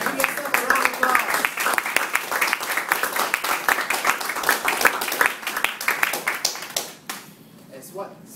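Audience applause at a Toastmasters meeting closing address, brisk dense clapping in a room that carries on for about seven seconds before thinning out, with a voice starting to speak as it fades.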